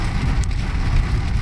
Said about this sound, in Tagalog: Inabutan tayo ng ulan dito pala sa daan.